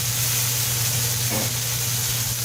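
Lamb tips browning in a hot pan for a Guinness lamb dish give a steady, close sizzling hiss that runs unbroken under a low background hum, with no talk.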